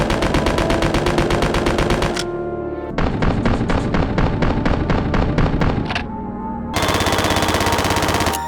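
Ingram MAC-11 fire in Resident Evil Survivor 2, loud and relentless, in three long rapid bursts broken by brief pauses for a reload.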